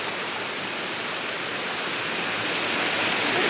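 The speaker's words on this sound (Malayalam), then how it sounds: "ഇതാണ് ഗൈസ് തോട്." Water in a small rocky stream rushes steadily, making a continuous, close, even hiss with no breaks and no voices.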